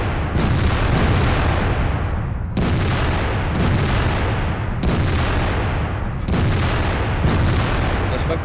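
Loud tank cannon shots in the World of Tanks game, testing an AMX 50B tank: five heavy booming blasts spaced a second or two apart, each with a long rumbling decay, under faint background voices.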